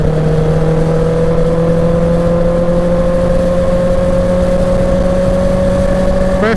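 A Honda CB650R motorcycle cruises at speed on a highway, its engine giving a loud, steady whine that climbs slightly in pitch under heavy wind and road noise, with no talking.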